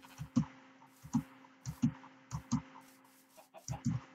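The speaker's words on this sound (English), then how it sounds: "There's more chickens here" Short, soft clucks of video game chickens repeat in a loose rhythm with small clicks, a few close by against a faint steady hum.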